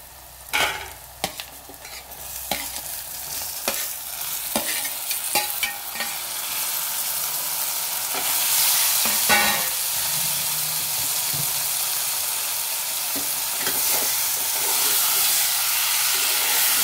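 Chopped tomatoes go into a hot pan for a Telugu brinjal and tomato curry and are stirred, giving scattered scraping clicks at first and then a steady, rising sizzle and steamy hiss.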